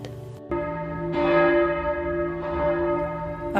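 Church bells ring out with long, sustained metallic tones that swell and overlap, each strike blooming into a rich humming resonance, clear and moderately close with no voices.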